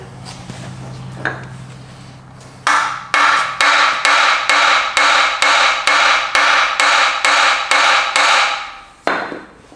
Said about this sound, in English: Just keep tapping it down